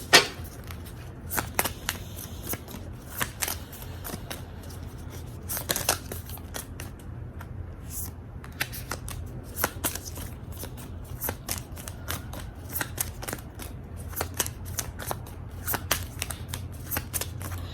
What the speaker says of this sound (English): I did have 2 cards that turned over in the deck while shuffling